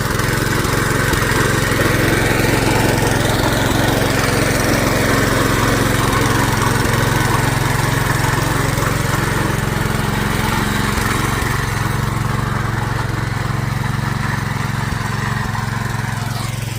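A tractor's engine runs steadily during sowing work in a farm field, a loud, continuous mid-pitched drone that holds nearly unchanged throughout, close by with no talk over it.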